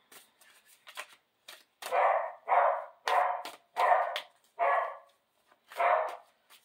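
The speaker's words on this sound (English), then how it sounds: "Why does my dog have to bark every time I'm recording?" A dog barks at home, a series of about six loud, close barks spaced roughly half a second apart, with a few softer yips and sounds between them and no talking.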